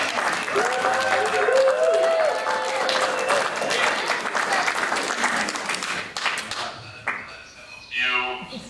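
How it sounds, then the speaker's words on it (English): A small group applauds in a living room, close, lively clapping with voices talking over it, tapering off as a single speaker takes over near the end. "People are applauding."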